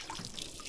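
Strong spring water rushing and splashing on a rural farm during rain, a steady broadband wash with no pauses, fairly close and moderately loud.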